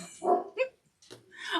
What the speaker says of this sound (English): my dogs have to bark, of course,